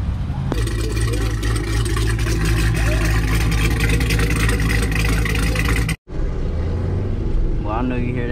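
A Dodge Hellcat engine roars loud and steady up close, a dense rumbling drone that cuts out for an instant and comes back, with voices talking over it.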